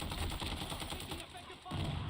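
Rapid automatic gunfire in the Modern Warfare 2 video game crackles in dense bursts, loud and close, briefly easing before firing picks up again near the end.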